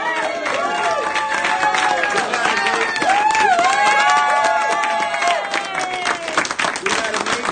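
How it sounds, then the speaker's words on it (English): An audience applauds and cheers at a victory speech for a Senate campaign, sustained dense clapping mixed with crowd voices and whoops, loud and continuous throughout. "thank you very much for that applause"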